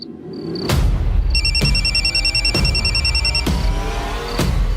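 A mobile phone rings indoors with a bright, repeating electronic tone pattern, broken by several sharp knocks or thumps spaced about a second apart, loud and close with no talking.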